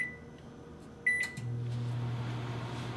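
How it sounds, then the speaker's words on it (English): A kitchen oven being set to preheat to 400 degrees Fahrenheit: a few short electronic beeps, then a click and a steady low hum as it starts running, close and fairly quiet. "I'm gonna preheat my oven."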